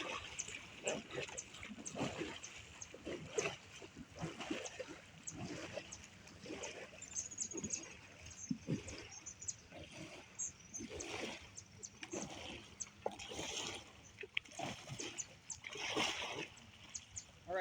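Canoe paddle strokes splash and drip in water during a paddle-and-pry stroke session, a run of irregular close splashes and trickles over about seventeen seconds with no talk.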